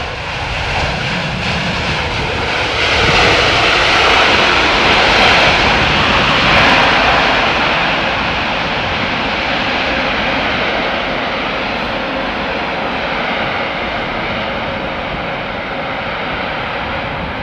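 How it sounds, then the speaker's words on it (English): A jet airliner roars at London Heathrow Airport, a loud broadband engine rumble and hiss that swells and holds steady as it passes or climbs away, continuous for the whole stretch with no voices. "Why is that plane taking off again? It sounds like it's taking off."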